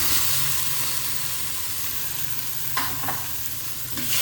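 Rice for nasi goreng sizzles loudly in a hot pan while being stirred, with a steady frying hiss and occasional scraping strokes of the spatula and no voices.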